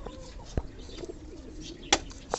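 Black and white fantail cross pigeons nesting, with faint soft coos and a few brief wing flaps or scuffles against a quiet, low-level background.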